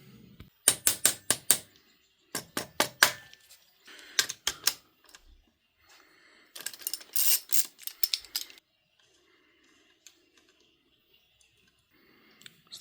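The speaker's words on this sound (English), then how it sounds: "I'm just going to take the tab washer off here, take this apart" Metallic clicks and rattles while a tab washer is worked off a Jaguar XJS part during dismantling, in rapid bursts of tapping broken by short pauses, close and fairly loud, then fading into quiet fiddling.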